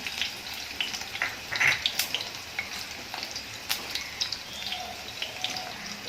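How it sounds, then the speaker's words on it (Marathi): Garlic frying in a pan while a prawn curry is cooked: a steady, close crackling sizzle with small pops and light stirring noises throughout, no speech. "आता लसण आहे तो छान असा कुरकुरीत झाला पाहिजे गोल्डन ब्राऊन कलर आला पाहिजे तोपर्यंत परतून घ्यायचं"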